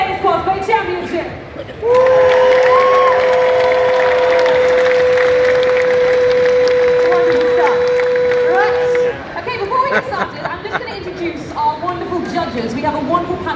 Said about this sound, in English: I want you to really give them a massive cheer for all our entries entering today's Cosplay Championship